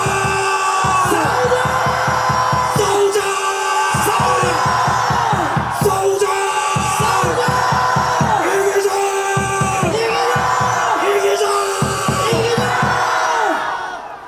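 A rally crowd in Daegu protesting against an impeachment, a large mass of voices shouting and cheering in repeated rhythmic bursts, loud and sustained, with chanted yells swelling and falling throughout.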